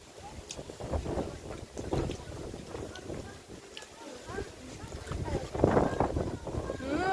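Wind blows outdoors and buffets the microphone in uneven gusts while people talk over it.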